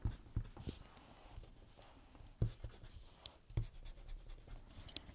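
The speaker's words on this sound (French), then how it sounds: "Un petit coup de gomme" An eraser rubbed over paper on a scrapbook page to remove small pencil guide marks, heard as soft, scratchy strokes in short bursts with a few sharper taps, close and fairly quiet.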